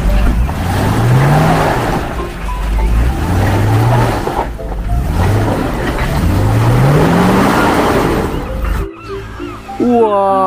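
Toy Jeep Hummer car whirs with a repeating rising engine-like motor tone in several cycles, loud and close, before a sudden cut to a person speaking.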